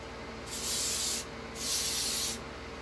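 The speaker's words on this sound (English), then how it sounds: "You want to give a light spray and that's it." Oil sheen conditioning spray hisses onto a synthetic wig in two close, soft bursts of about a second each, separated by a brief pause over a low steady hum.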